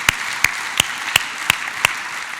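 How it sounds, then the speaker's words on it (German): Six sharp, evenly spaced claps ring out at a slow, steady beat for a park service crew on a city street, close and distinct, with no voices. "Applaus für die Leute."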